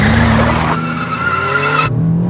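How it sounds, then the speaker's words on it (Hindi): A car driven very fast screeches its tires in a loud, sustained skid, a strained whine riding over engine roar before the sound cuts off abruptly. "इतना तेज क्यों चला रही हो?"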